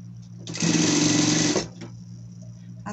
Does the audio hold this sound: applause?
no